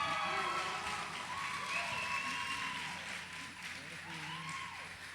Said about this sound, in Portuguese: recebesse com salva de palmas, com muito grito, com muito amor, um pregador excepcional.